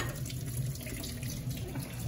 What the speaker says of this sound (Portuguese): vou passar um pouquinho de água